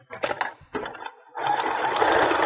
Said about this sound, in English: So you're sewing from the back side.